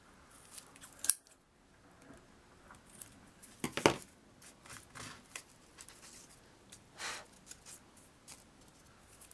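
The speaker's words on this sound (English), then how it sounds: "And again, just cut off those little ends." Scissors snip small ends off a specimen card, several crisp close cuts at irregular intervals with light paper rustling between them.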